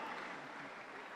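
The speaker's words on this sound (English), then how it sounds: "Give Jesus a clap offering." Church congregation clapping together during a live-streamed service, a dense, steady wash of applause filling the whole moment without pause.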